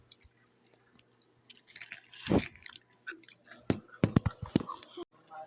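Crunchy Oishi snack being chewed close up, with a cluster of crisp bites and crackles in the second half that come in quick uneven bursts over a quiet background, plus faint whispery sounds.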